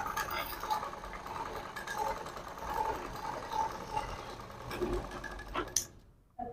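A sewing machine runs a deep-neck seam on a half saree blouse, its needle clattering in a quick, steady rhythm with small surges, close and clear, before stopping abruptly near the end.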